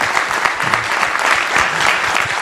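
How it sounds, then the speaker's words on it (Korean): Loud, dense audience applause at a digital economy forum with candidate Moon Jae-in, continuous close clapping that runs steady throughout. "다시 한번 뜨거운 박수 부탁드리겠습니다."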